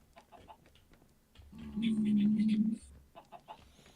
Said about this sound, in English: There's a loose chicken.